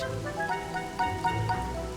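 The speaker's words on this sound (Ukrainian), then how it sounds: "Ось чому тут так дощить" Steady rain falls in an animated fantasy series scene, a continuous even hiss with faint patters and no talking.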